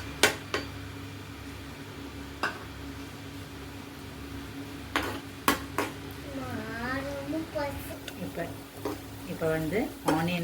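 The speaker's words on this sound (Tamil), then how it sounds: "ஆயில் ஹீட் ஆனதும் நம்ம ஆனியனை போட வேண்டியதுதான்." Chopped onions hit hot oil in a pan while cooking bread masala, giving a steady, close sizzle with occasional clinks of a utensil. A voice talks over the frying in the second half.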